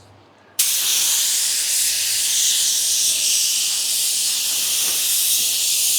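Paint gun spraying automotive metallic base coat, an abrupt loud hiss that starts after a short quiet moment and holds steady and close to the end.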